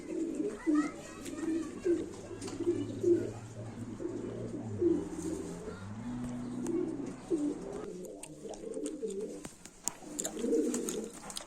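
Pigeons coo repeatedly in soft, rhythmic low phrases at a live pigeon auction for Turkish play pigeons, fairly close and steady through most of the stretch, with a brief lull near the end.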